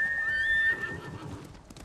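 A horse in the video game Ghost of Tsushima whinnies with a high, wavering neigh, followed by soft hoof clops and snorting, fairly close and clear, no talking.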